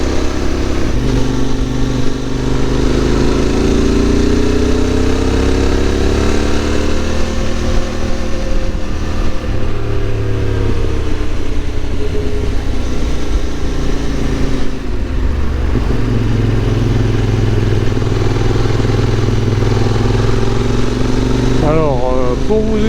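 A QJ motorcycle engine close up on hairpin bends of a Pyrenean mountain pass, rising and falling in pitch as it slows and accelerates repeatedly, loud and continuous with wind noise.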